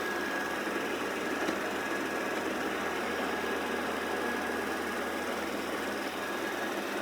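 A Shark robot vacuum from Costco runs while circling around, giving a steady, unbroken motor whir with a faint high-pitched tone riding on top, constant in level for the whole stretch and with no voices.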